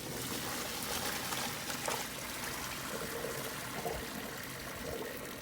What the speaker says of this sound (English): I'm gonna drain the water.